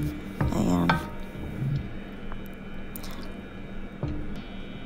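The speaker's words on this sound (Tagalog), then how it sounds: "Then, haluin natin saglit." A pot of pork adobo with pineapple chunks being stirred after a cup of water is added, giving soft wet squishing and sloshing at the start, then quieter faint scrapes and drips.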